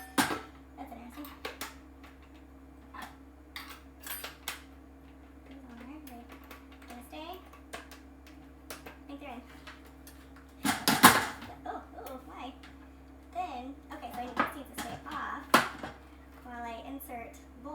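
A metal mixing bowl fitted onto a stand mixer and the head reattached, giving scattered clanks and clicks with one louder clatter midway, all under steady talking.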